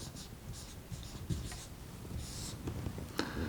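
Handwriting for a unit-conversion math problem, with soft scratchy pen or marker strokes in short bursts against steady background noise, no talking.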